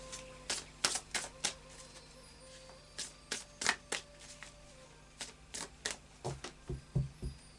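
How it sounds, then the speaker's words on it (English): A tarot deck being shuffled by hand in a quiet room, a series of soft, crisp card riffles and taps in irregular bursts, close and faint, with no talking. "let's do a final shuffle of the Anna K Tarot"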